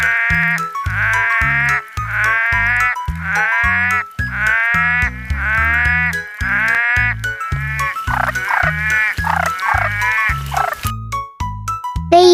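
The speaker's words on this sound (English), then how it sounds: "The red-eyed tree frog lives in rainforests and wetlands of North America." Red-eyed tree frog calls repeat in a steady rhythm, each a short, nasal, bleating croak over a low pulse, loud and close, about a dozen in a row with no other sounds.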